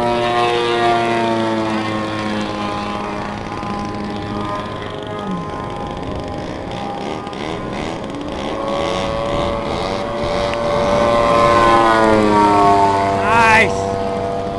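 An aircraft makes a high-speed pass over an airfield. Its loud, steady engine roar shifts in pitch as it sweeps by, with voices talking over it.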